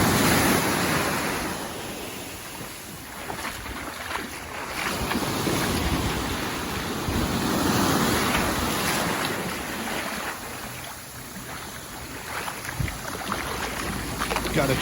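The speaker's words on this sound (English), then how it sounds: "not get knocked over by this wicked surf." Wicked ocean surf at Bocas del Toro, Panama, crashes and churns continuously in a loud close roar with heavy wind buffeting the microphone and faint voices now and then.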